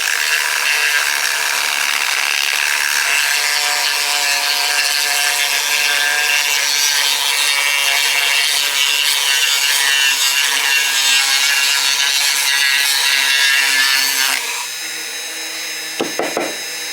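Power sander grinding on a PVC and cork shop vacuum muffler, a loud continuous abrasive buzz and rasp held for about fourteen seconds, then cut off with a few faint knocks.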